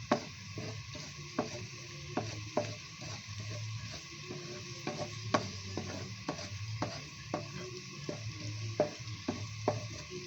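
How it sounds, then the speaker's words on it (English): Garlic sautéing in a hot pan, a steady oily sizzle with repeated sharp clicks of a utensil stirring and scraping, moderately close with no talking. "and then we saute the garlic"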